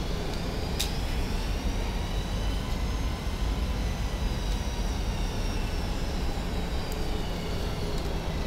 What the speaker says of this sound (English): Engine number 1, ground start.